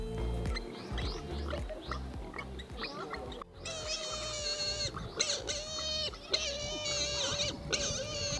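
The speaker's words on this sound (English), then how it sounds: "Little piglets are making noises." High, wavering squeals and grunting cries from warthog piglets in Nairobi, close and loud over rustling background noise, coming in repeated bursts.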